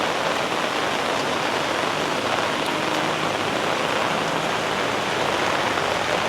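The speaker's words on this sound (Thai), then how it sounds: "บรรยากาศฝนเนาะ" A steady downpour of heavy rain drums continuously close by, a thick even wash of sound with no one speaking.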